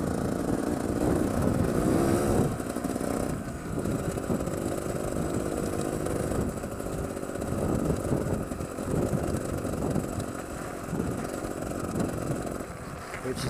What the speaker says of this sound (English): It's basically a new bike I'm riding.